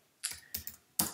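Keys clatter on a computer keyboard while a VyOS router interface is configured, with three separate bursts of close, crisp keystrokes and short pauses between them.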